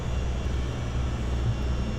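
A Boeing CH-47D Chinook twin-rotor helicopter taxiing on its wheels in a flight simulator, a steady low turbine drone with a throbbing rotor hum, constant and close with no speech.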